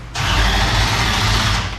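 A race car engine fitted with a brand new starter and a carburetor fires up, catching abruptly after a brief crank and settling into a loud, close, steady rumbling roar.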